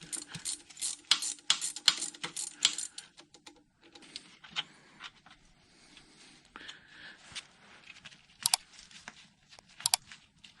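A ratcheting box end wrench turns the rear motor mount bolts off a K&T 2HL motor, giving quick bursts of dry, close clicking that stop and start with short pauses between strokes.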